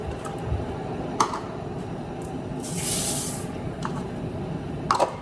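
Pot of water at a rolling boil on a stovetop for cooking rice, a steady dense bubbling hiss with a few sharper pops and a brief louder rush of steam midway.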